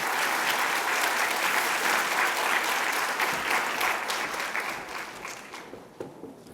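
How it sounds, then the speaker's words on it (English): Lecture audience gives a sustained round of applause welcoming a keynote speaker at an academic seminar, loud and dense at first, then thinning and fading toward the end. "Please welcome him with an applause."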